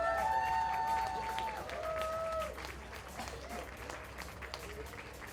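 A crowd applauds and cheers as a couple arrives by black Infiniti G50 at a school prom, the clapping steady and fairly loud at first, then easing off, with faint voices mixed in.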